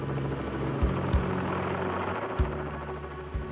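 A helicopter lifts a crocodile out of a wetland, its rotor thudding in a loud, steady drone close by with occasional heavier thumps and no voices.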